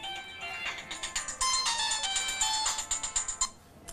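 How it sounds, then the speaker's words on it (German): A telephone rings in a busy family home, with repeated electronic warbling trills pulsing in quick succession, fairly close and loud. "Das Telefon klingelt seit kurz nach 8."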